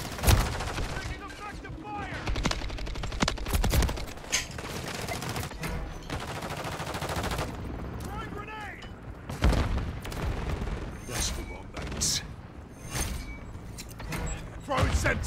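Rapid bursts of automatic gunfire and scattered shots crackle through a Modern Warfare 3 multiplayer match, dense and fairly close, with voices talking over the shooting at times.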